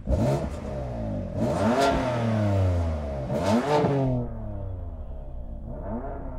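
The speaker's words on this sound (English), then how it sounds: "let's have a listen to that BMW" A tuned BMW M4 engine revs hard in two or three rising sweeps, then settles to a steady idle, loud and close with no talk over it.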